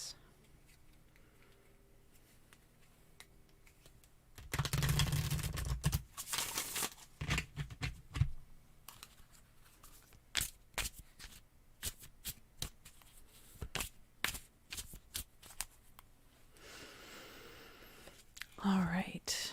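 Tarot cards are shuffled close up in an ASMR-style reading: repeated crisp riffles and soft slaps in irregular bursts, quiet overall, with faint whispering in the background.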